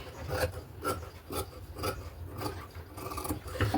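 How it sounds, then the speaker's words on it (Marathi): Scissors cut blouse fabric along a straight line in a steady series of close, rasping snips, about one every half second, with no talking. "तर सर्वात पहिले आपण ही सरळ रेघ आहे ती कटिंग करून घेऊयात अगोदर उंचीची"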